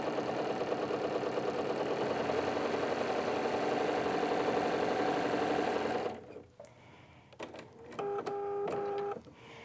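A sewing machine runs steadily while stitching a straight seam, its motor hum close and loud for about six seconds, then stops, leaving short clicks and handling noises.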